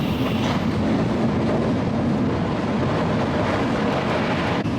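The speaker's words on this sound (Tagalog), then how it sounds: "Ganito kabilis kapag sa bullet train" Steady, loud rumble and rush of a bullet train travelling at high speed, heard from inside a carriage on a trip to Nara, Japan, with continuous track roar and faint rhythmic clatter.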